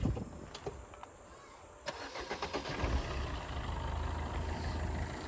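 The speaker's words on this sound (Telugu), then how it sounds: "సో బాబు ఒకసారి స్టార్ట్ చేస్తావా వెహికల్?" An old high-mileage Suzuki Swift car cranks with a few quick starter bursts, catches, and settles into a steady low idle, heard nearby with faint background sounds.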